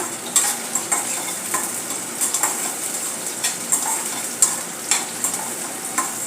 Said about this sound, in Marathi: अशा प्रकारे आपल्याला चांगले परतून घ्यायचे आहे